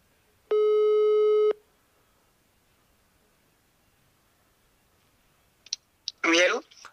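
A single steady telephone ringing tone sounds for about one second, clear and alone in near silence, followed after a pause by a few clicks and a brief burst of a voice answering on the line.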